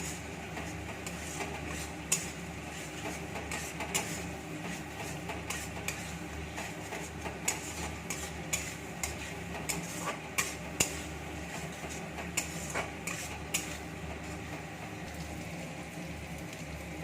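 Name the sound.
stirring and sautéing chicken in a pan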